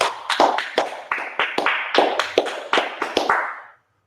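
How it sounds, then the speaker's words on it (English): A group of people claps together in a class setting, about a dozen sharp, loud, evenly spaced claps in a steady rhythm that stop abruptly near the end. "let's clap it up"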